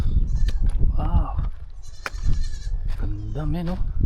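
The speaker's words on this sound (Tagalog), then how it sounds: "Guys, may mga kambing." Goats bleating near an old stone house by a lighthouse in Bayog, Burgos, Ilocos Norte, several wavering calls rising out of wind and outdoor noise, with people talking excitedly nearby.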